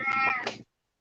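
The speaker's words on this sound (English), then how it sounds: "I hear a kitty cat." A pet cat named Boots gives one loud, close meow lasting about half a second, then the sound stops abruptly, leaving silence.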